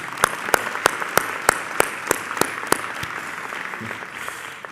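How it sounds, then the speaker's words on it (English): Audience applause at a university forum gathering, a steady round of clapping from a crowd with sharp individual claps standing out rhythmically, fairly close and continuing throughout before fading slightly at the end. "Let me applaud that."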